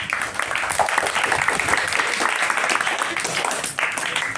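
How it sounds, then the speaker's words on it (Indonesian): Students in an evening religious class break into steady, dense applause that fills the room at close range, holding an even level throughout with a brief dip near the end. "Beri aplaus untuk Patir"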